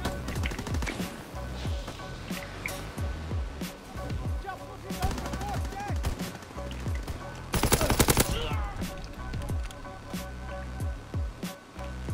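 Machine gun fire in a first-person shooter comes in repeated short bursts with a fast rattling cadence and moderate loudness. One denser, louder volley lands near the eighth second, and a voice talks between the bursts.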